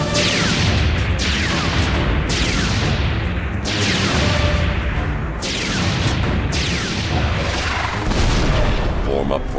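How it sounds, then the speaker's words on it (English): Artillery in a Star Wars: The Clone Wars battle on Felucia fires again and again, each loud booming blast sweeping down in pitch. The shots come every second or so over a constant roar of battle noise. "Artillery, open fire!"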